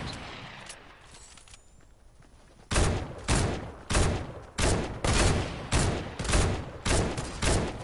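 An AR rifle with a thermal scope fires about nine evenly spaced rapid shots outdoors, each a loud sharp crack with a short decay, after a quiet stretch of faint background noise.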